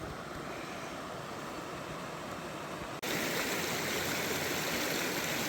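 Creek water rushes steadily past a bedrock slab in a Washington state gold prospecting spot, a continuous hiss of flow that swells louder partway through, with no voices.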